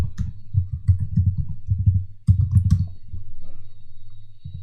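Rapid clicking keystrokes on a computer keyboard, close and steady in quick bursts with a brief pause, then a softer hum as typing trails off.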